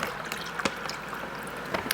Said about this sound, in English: go ahead and pour your liquid in